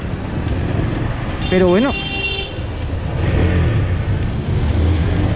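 A Husqvarna Svartpilen 401 motorcycle being ridden, its engine a loud, steady drone from start to finish with a brief rising rev near two seconds, while someone talks over it.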